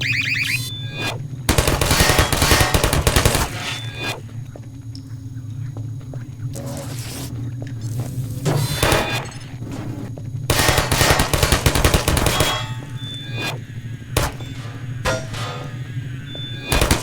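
A sentry turret fires machine-gun bursts in Half-Life 2: loud, rapid rattling volleys in several separate bursts, with quieter stretches between them.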